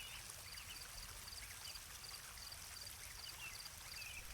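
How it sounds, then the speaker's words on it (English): Running water of a stream on a New Zealand walk, a steady, full-band rush and trickle with no pauses, heard alone at moderate level. "I don't think you can beat the sound of running water"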